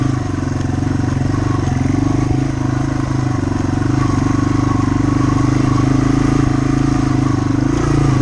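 A Yamaha TW200 motorcycle cruising through the woods, its engine a loud, close, steady drone with light clatter, running without pause and with no voices.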